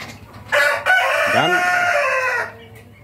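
Rooster crowing loudly in a chicken coop, one long drawn-out crow with clucking around it, while someone speaks quietly underneath.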